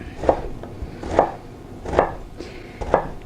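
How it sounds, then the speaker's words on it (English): Vegetables are finely chopped on a board for stuffed portobello mushrooms: four crisp, evenly spaced knife strikes, close and distinct, with no talk. "I'm going to do just a nice chop just like that"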